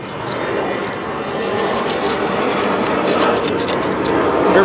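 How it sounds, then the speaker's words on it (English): Propeller airplane droning overhead at a rusty wagon restoration, a steady broadband roar that swells slightly toward the end, with no talk over it. "I was rudely interrupted by the airplane"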